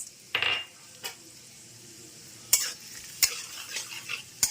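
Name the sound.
frying cashews and raisins in ghee and oil in a wok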